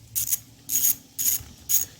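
Ratchet loosening valve cover bolts on a GY6 139QMB scooter engine, four short bursts of rapid clicking in an even rhythm, close and fairly loud with quiet gaps between.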